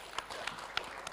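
An audience at a school coordination meeting in Makassar claps at a moderate distance, a brief patter of hands with a few sharper claps standing out, fairly faint.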